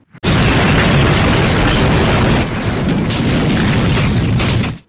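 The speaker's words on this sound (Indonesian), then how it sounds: "Mobil yang mereka naiki menabrak kendaraan BBM. Ledakan besar terjadi." A huge explosion as a car slams into a fuel tanker in an Indian action film, a loud sustained roaring blast that fills the whole clip with dense rumbling and crackling for several seconds before cutting off.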